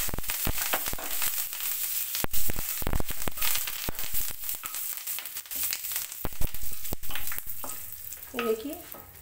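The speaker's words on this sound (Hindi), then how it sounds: "अब हम इसमें डालेंगे अपना ये करी पत्ता।" Curry leaves crackle and sizzle in hot oil in a pan where peanuts were just roasted, making loud bursts of popping and spitting with stirring scrapes, steady throughout and without talk.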